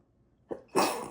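A single sharp sneeze nearby, preceded by a quick intake of breath, loud and abrupt in an otherwise quiet room.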